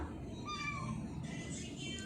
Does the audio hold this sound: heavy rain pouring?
no